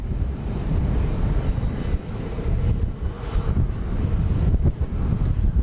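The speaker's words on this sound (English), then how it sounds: "So we've got coming in from Las Vegas flight 3305, a MAX 8." A Boeing 737 MAX 8 airliner arriving from Las Vegas at Dallas Love Field sends a broad, steady low roar. Heavy wind buffeting on the microphone runs through it.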